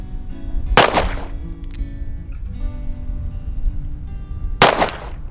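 A Cimarron Thunderer revolver fires two sharp, loud shots about four seconds apart outdoors during a storm, with rain and wind noise between the reports and no speech.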